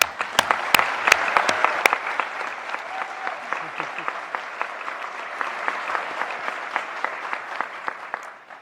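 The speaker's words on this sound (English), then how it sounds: "I'm going to ask for a round of applause to all of you" A round of applause at a UN gathering, dense crowd clapping with a few sharp, loud claps up front, then thinning into scattered, steady claps that carry on to the end.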